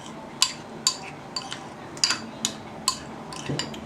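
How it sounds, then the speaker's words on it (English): Stir-fry sauce with pineapples being stirred in a pan, heard as regular light clinks and taps of a utensil against the pan at steady intervals, close by, with a faint sizzle and no voices. "I'm going to also go ahead and add the pineapples in there. Alright, I'm just going to stir that up."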